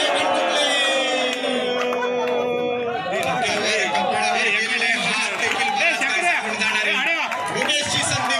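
A crowd claps and shouts loudly and continuously at a cricket bowl-out tiebreaker, with excited yelling and chatter that rises into a sustained roar.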